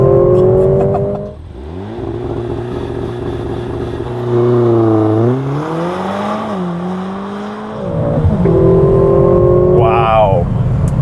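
A 2021 Mercedes-AMG GLA 45 mini SUV makes a launch control race start, its engine loud and close, revving up through rising gear-by-gear pulls with brief dips at each shift.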